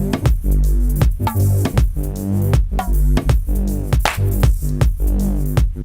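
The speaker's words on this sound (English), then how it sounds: "the bass will now only happen when the drums aren't happening" Ableton bass line gated by a drum sidechain with flip enabled, so loud, thumping bass notes fill the gaps between the drum hits in a choppy, pumping rhythm.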